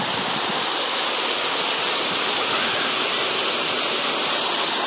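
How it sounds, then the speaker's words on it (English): Water runs steadily through a small brook winding among residential landscaping near a hot tub at a Sandestin beach condo, a continuous close rushing splash with no pauses and no voices. "This is the ending of our little brook that runs through the landscaping"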